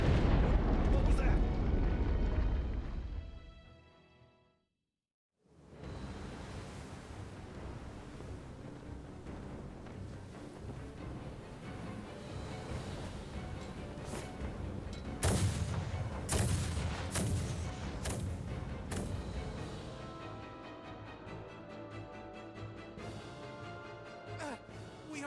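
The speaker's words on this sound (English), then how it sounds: "We are taking massive fire from the Empire's naval battalion. Their unceasing bombardment is laying waste to our forces." A naval artillery bombardment in Star Ocean The Divine Force, with heavy rumbling blasts, a brief drop to near silence, then sustained booms and sharp impacts beneath a dramatic scene, with voices speaking over the barrage.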